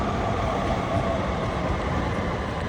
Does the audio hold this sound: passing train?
yes